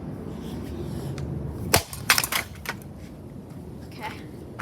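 A socket-mounted ceiling fan is smashed apart, giving a few sharp cracking and clattering impacts in quick succession near the middle, then a lighter knock, over steady low background noise.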